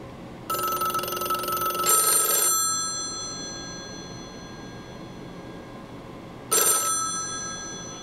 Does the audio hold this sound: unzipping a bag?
no